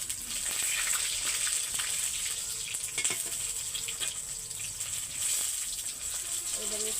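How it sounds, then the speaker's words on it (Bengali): Pumpkin flower fritters (kumro phuler chop) frying in a pan of hot oil make a steady close sizzle with a few stirring clatters. "আমি 3টে করে ভেজে নেব"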